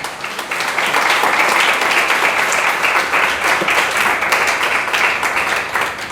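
A church congregation applauds during a communion service, a full, loud, even roar of many hands clapping that holds steady for several seconds with no talk over it.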